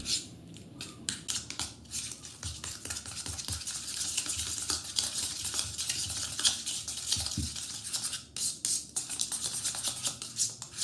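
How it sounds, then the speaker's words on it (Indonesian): A utensil scrapes and clicks against a bowl in a steady, irregular rhythm, close and fairly quiet, mixing garlic cheese bread ingredients. "Aduk hingga tercampur rata."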